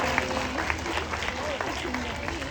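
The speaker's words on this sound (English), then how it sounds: "I ask you all to give her a big round of applause" A crowd of spectators at a seal show claps together in a brief, fairly even burst, with a voice and background chatter mixed in.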